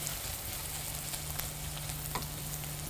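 Chopped onion and green chili fry in a pan with a steady, close, even sizzle that carries on throughout without any talking.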